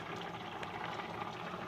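Bengali shukto curry with poppy seed paste, fried spice mix, sugar and ghee bubbling in a pot, a soft continuous simmering burble at low volume with no voices.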